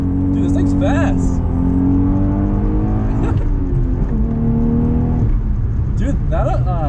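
A car revving hard toward the redline, pulling through first to third gear with a loud, close engine note that climbs, drops at each shift and climbs again, while people talk over it inside the cabin.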